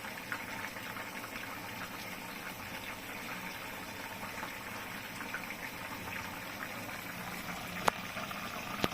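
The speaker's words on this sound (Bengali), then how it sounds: "ঝোলটা পুরো ফুটে গেছে" Fish curry with potato, cauliflower and lentil dumplings simmers in a pot, a soft, even bubbling at low level with one faint clink near the end.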